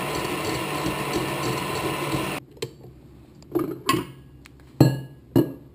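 A mixer whips egg whites with lemon juice, vanilla, colouring and sugar in a steady, dense whirr for about two seconds, then stops, leaving scattered clinks and taps of a whisk and bowl.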